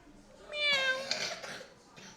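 A tame plum-headed parakeet imitating a cat's meow, giving one clear, drawn-out, mewing call close by, followed by softer rustling and faint background sounds.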